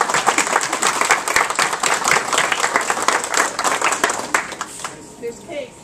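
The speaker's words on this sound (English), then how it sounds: "Let's give a round of applause to all of our celebrants this year." Audience applause for award celebrants at a library celebration event, dense clapping from a crowd in a room, loud and sustained for about five seconds before tapering off.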